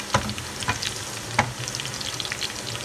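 Sliced onions browning with whole red chilies frying in hot oil for a pakora kadhi, giving a steady close sizzle broken by a few sharp stirring scrapes.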